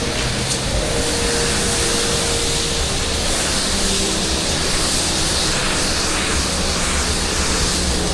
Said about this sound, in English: I'm gonna fresh water wash these walls down with some old freshy water